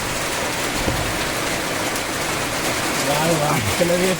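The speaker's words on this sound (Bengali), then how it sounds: "যে টোটোয় তো দেখুন খুব জোর বৃষ্টি হচ্ছে" Heavy rain pours steadily at an outdoor picnic with friends, a dense, constant hiss close by, with a voice faintly heard toward the end.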